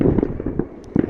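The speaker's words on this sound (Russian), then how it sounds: "над Иссыком салют очень крутой" A fireworks display over Lake Issyk-Kul pops and crackles in rapid, overlapping bursts, loud and continuous, with no one talking.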